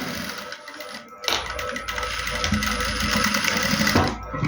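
A sewing machine stitching a baby boy's dress runs in a fast, steady mechanical whir with a brief pause near the start, then continues close and even for several seconds without speech.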